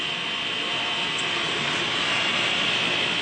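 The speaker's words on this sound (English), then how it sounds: "I'm going to start the grinder." A 14 amp bench grinder powered by a generator runs with a steady, loud broadband whine and hiss that holds constant throughout, close by, with no talking.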